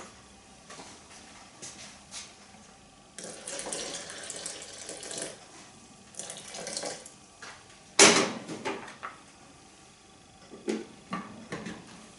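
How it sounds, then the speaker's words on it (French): Water poured into a raw vegan garden blend soup, heard as intermittent splashing and trickling with a few sharp clinks of kitchenware, fairly quiet and close, with no talking. "je vais rajouter un peu d'eau"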